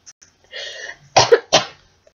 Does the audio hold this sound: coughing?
yes